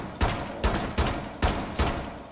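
Gunfire in a video game: five sharp, loud shots in quick succession, roughly half a second apart, each with a short decaying tail and no talk over them.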